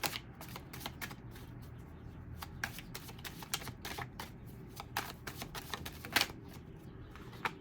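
Tarot cards are shuffled by hand for a reading. Soft, close riffling and flicking comes in a steady run of quick taps and snaps, fairly quiet, with no talking.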